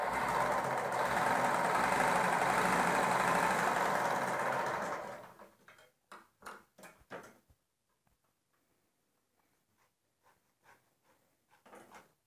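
A sewing machine stitches a folded three-inch hem on a four-panel petticoat, a steady dense whir running loud for about five seconds before stopping, followed by a few short clicks and handling taps in near silence.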